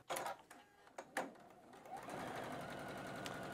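A sewing machine stitches blue batik squares onto a rectangle: a few sharp clicks and handling knocks first, then a continuous close, even hum of stitching for the rest, with no talking.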